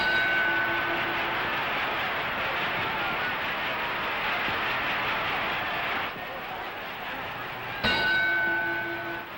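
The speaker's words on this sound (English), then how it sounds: "The bell is only seconds away, and Bratton will last the round" A boxing ring bell clangs sharply near the end to close the round in the Kid Gavilan versus Johnny Bratton fight, ringing over a steady roaring crowd.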